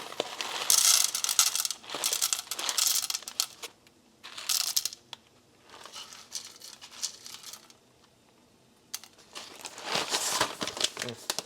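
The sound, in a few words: coffee beans being weighed out to 18 grams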